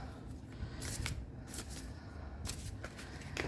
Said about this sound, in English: we are just going to go ahead and shuffle this real fast